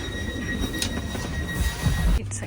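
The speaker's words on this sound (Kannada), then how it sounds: "So double decker train." Upper deck of a double-decker train in Switzerland, with a steady low rumble of the moving carriage and faint wheel and track noise throughout, deepening briefly near the end.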